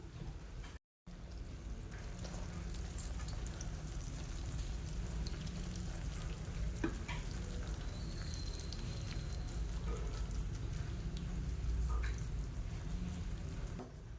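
Hot Mysore pak mixture pours from the pan into an oiled tray, giving a steady, close bubbling hiss that runs unbroken throughout.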